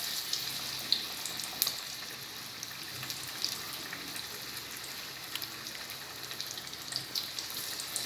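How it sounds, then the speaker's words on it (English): Onion and potato aloo bhajis frying in a small amount of oil in a small kadai over a low flame: a steady, even hiss with fine crackling and occasional small pops, with no voices. "And one by one, my aloo bhajis will go in."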